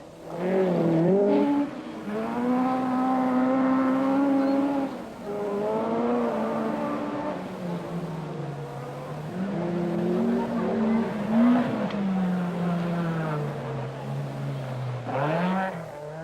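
An Audi rally car at the 1979 Lombard RAC Rally drives past with a loud rising and falling engine note. Revs climb through gear changes and hold a sustained drone, with a brief dip in the middle.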